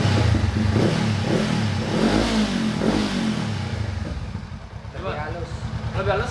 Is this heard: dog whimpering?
no